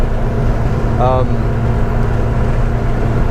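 Cabin drone of a Morris 1100S with a 1275cc engine of about 60 horsepower while driving: a loud, steady low engine and road hum. A brief voice is heard over it near the one-second mark.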